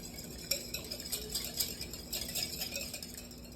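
A whisk clicking against a bowl while blending a garlic butter sauce for scallops, quick light irregular taps, close and quiet, with a faint steady background hum.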